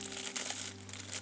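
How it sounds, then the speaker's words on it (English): A small plastic bag crinkles continuously for about a second as it is pulled off a transformer in an Elenco XP-15 power supply kit, close and fairly loud over a steady low mains hum. "little plastic bag"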